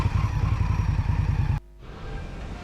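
An Indian Scout Bobber motorcycle engine rumbles loud and close with a steady pulsing beat, then cuts abruptly to a much quieter low hum partway through.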